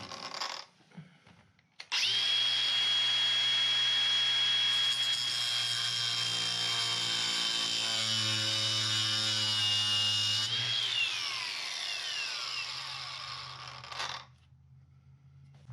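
An impact driver backs rusted bolts out of a horse trailer in a loud, sustained whirring and hammering run of about twelve seconds, the pitch sliding downward near the end before it stops, with no talking.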